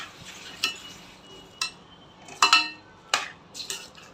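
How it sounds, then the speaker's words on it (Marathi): A cauliflower and peas vegetable dish is stirred and turned in a cooking pan, giving a few sharp metallic scrapes and clinks of a spoon against the pan at irregular intervals, close and moderately loud. "फ्लावर घातला आहे आता परतवून घेते व्यवस्थित"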